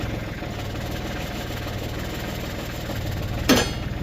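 Diesel engine of a backhoe idling steadily after the glow plugs are used, a low, even throbbing rumble held throughout with a brief sharp knock or clank near the end.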